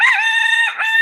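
A rooster crows in a garden, a loud, close, drawn-out cock-a-doodle-doo with a brief dip near the end before the call rises again.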